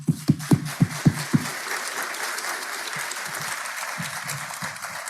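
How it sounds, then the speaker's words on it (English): Applause for a conference team at the RAES 2023 event, opening with a few sharp, separate claps that merge into steady, sustained clapping from a large audience, fairly loud and without talk. "I'd like to give a big round of applause to the ExoCoBio"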